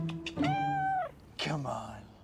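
A cat stuck up high in a children's TV episode lets out two drawn-out, wavering meows with a short pause between them, close and clear over quiet background sounds.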